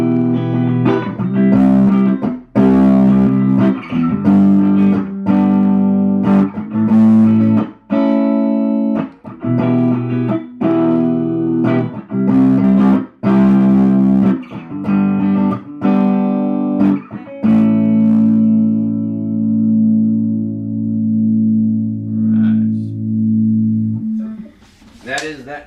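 An electric guitar plays through a Vox valve preamp amplifier, giving loud, sustained, slightly distorted chords and single notes that ring on, then end in a long held chord that fades out.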